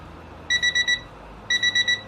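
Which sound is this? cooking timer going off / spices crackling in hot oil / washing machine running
cooking timer going off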